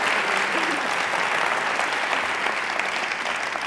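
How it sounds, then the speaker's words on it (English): An audience at a TEDx talk breaks into sustained applause, a dense, even roar of many hands clapping that holds steady at full volume from start to finish. "we all owe Allie a round of applause."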